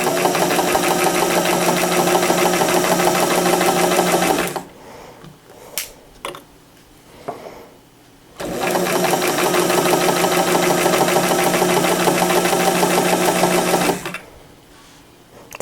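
Sewing machine with a new, noisy motor and belt stitching stretch lace for a jacket, running in two long steady whirring bursts separated by quiet pauses with small handling clicks, then starting again at the end.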